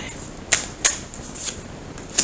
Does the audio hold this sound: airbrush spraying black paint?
no